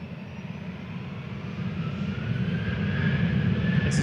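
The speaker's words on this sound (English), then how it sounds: "This is Ryanair to Forteventura." A Ryanair airliner leaves Manchester Airport for Fuerteventura, its engine rumble growing steadily louder and fuller over a few seconds as it builds power, a broad, continuous roar with no voices.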